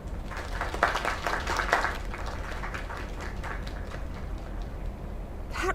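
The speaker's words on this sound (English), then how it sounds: "Another round of applause." Applause and cheering from a crowd inside the game Lake, a steady dense clatter of clapping that swells briefly then holds level to the end.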